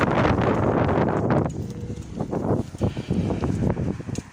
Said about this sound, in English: This wind just nearly blew me hat off again